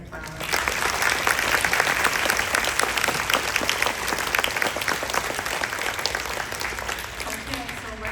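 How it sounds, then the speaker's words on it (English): Sustained audience applause after a live performance at an event, loud and dense clapping from a crowd that continues steadily throughout without pause. "Everybody, let's give them another round of applause."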